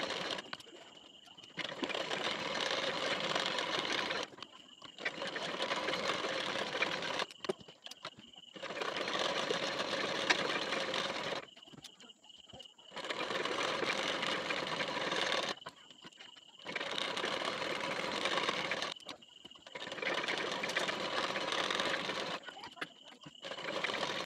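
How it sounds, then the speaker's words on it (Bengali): Sewing machine joining a nylon piece to the main fabric, running in steady multi-second bursts with short regular pauses between runs. "এখান থেকে পুরোটাতে সেলাই"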